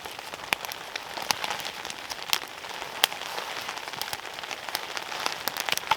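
Steady rain patters on a tarp shelter at a fall campsite, a dense close hiss broken by sharp louder drops hitting the fabric, with no voices.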